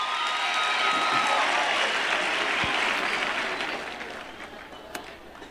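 Applause at the TETA Empowa Youth Weekend in Mafikeng, where a large crowd claps loudly and steadily before the clapping tapers off and dies away near the end.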